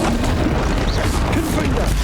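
Bombarda spell explosion in Hogwarts Legacy on Nintendo Switch, a heavy booming blast over dense game noise, with voices shouting in the mix.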